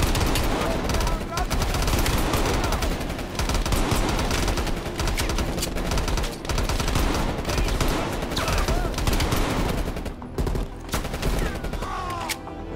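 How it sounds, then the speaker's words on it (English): Heavy gunfire in Call of Duty: Black Ops Cold War: dense, loud bursts of automatic and single shots crackle almost without pause, overlapping into a continuous barrage that thins slightly near the end. "Yeah, the guns are loud."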